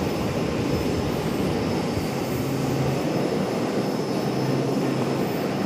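Steady broadband roar of an Airbus A321's jet engines at Charlotte airport, a continuous rumble at even loudness with no voices over it.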